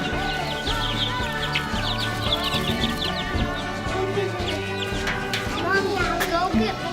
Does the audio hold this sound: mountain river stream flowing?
no